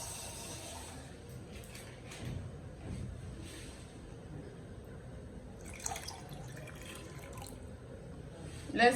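Sachet water poured into thick Ghanaian peanut butter groundnut soup in a pot, a soft, steady trickle and splash of liquid with faint dripping, fairly quiet and without talk.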